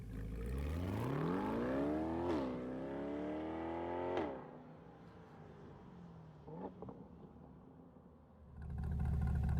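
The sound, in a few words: C8 Corvette with Hooker Black Heart catback exhaust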